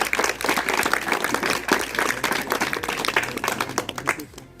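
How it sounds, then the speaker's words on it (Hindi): Clapping from a school audience at a teacher's birthday celebration at a government senior secondary school, dense and steady for several seconds before tapering off at the end, with faint voices mixed in. "एक बार सर के लिए जोरदार तालियां"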